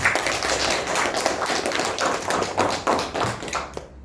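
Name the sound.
classroom applause for a classmate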